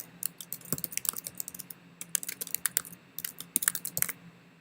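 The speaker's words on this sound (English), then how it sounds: "So let me type in History of Duke." Quick, irregular keystrokes on a computer keyboard as a title is typed in, clustered in short bursts with brief pauses, close and fairly quiet, with no talking.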